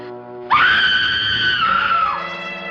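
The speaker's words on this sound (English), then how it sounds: "Somebody screamed." A sustained, loud scream from a person in a 1942 colorized mystery comedy film rises sharply and holds for about a second and a half before tapering off, set against a faint background.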